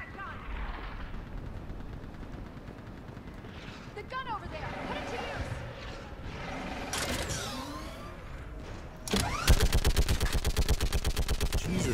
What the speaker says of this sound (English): Get on that gun up there and do some damage.